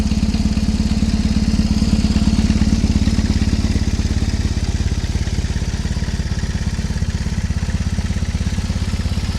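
A BMW R1150 GS boxer-twin motorcycle engine idles steadily with its exhaust baffle removed, giving a loud, close, even rumble with a fast, regular pulse throughout and no talk.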